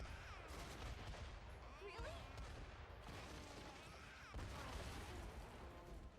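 Explosions in the video game Metaphor: ReFantazio, a steady barrage of cracking, gunfire-like bursts with sharper booms at intervals, continuous and fairly quiet overall.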